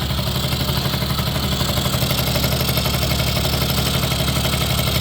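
A 1980 Suzuki Snip FS50 moped engine idles steadily, a continuous close buzzing putter with a rapid even pulse and slight rattling clatter.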